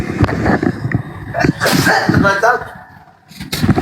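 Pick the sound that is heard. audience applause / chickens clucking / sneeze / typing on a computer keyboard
sneeze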